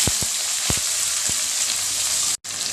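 Garlic cloves, fenugreek seeds and onion frying in hot oil, a steady loud sizzle with a few sharp pops and crackles early on and a brief dropout near the end.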